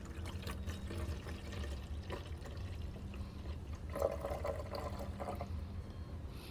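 Liquid fertilizer poured from a container into a sprayer tank for microgreens, a steady close trickle and splash running for several seconds over low background noise.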